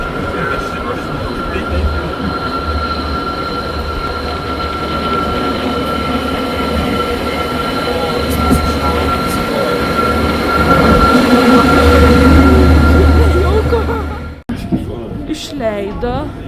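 Mountain train on the Alpine climb to Jungfraujoch, heard from inside as a steady low rumble and rolling hum with faint rail clatter throughout, ending in a sudden cut near the end; no one speaks.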